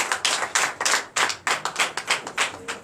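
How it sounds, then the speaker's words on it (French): A church congregation at a Sunday service in Comè, Benin, claps in unison with a strong regular rhythm, each sharp clap close and loud with brief gaps between. "Donnez l'acclamation à notre Seigneur Jésus."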